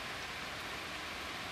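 Rain falls in a thunderstorm as a steady, close, broadband hiss of downpour, continuous and even with no thunder or voices in this brief moment.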